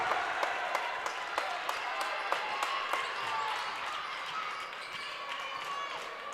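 Gym crowd at a girls' high school basketball game cheering and clapping in a sustained roar, with sharp ball bounces and shoe squeaks cutting through at a steady rhythm.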